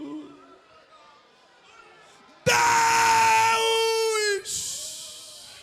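After a quiet stretch, a preacher suddenly lets out a long, loud, piercing scream acting out Samson's cry, sustained for about two seconds and then breaking into a second harsh burst.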